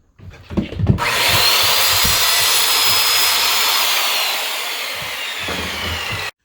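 A power saw cuts through a clamped piece of wood for a homemade Atari game controller, starting after a few handling knocks, then a loud sustained whining cut lasting several seconds before it stops abruptly.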